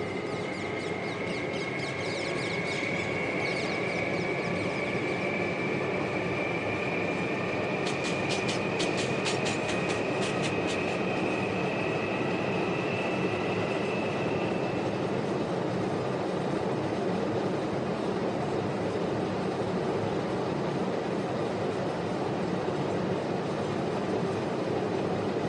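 A Mumbai 12-car fast local train stands at platform 6 on the Kalyan line, giving a loud, steady, close rumble. A high electric whine carries over it and fades out about midway, with no voices.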